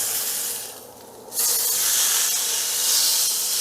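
A sous vide steak hits a hot pan for searing, and a loud, steady sizzle swells up suddenly after a brief quieter moment, then holds bright and close for several seconds.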